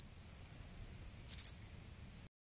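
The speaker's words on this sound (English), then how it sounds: "Crickets." Crickets chirp in a steady, high, continuous trill, fairly clear and close, ending in a sudden cut to silence.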